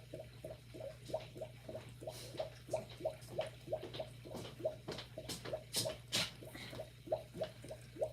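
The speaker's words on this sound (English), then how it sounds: "For these, I can do just water spray." A spray bottle of plain water is pumped in a rapid, even series of short spritzes, about two per second, quiet and close, running steadily over a low background hum.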